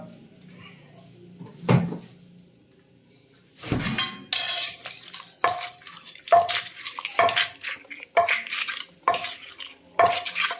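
Utensils clatter and clink against dishes and a mortar while som tam (papaya salad) is made, with irregular bursts of knocking, stirring and scraping after a quieter opening, and a voice talking in between.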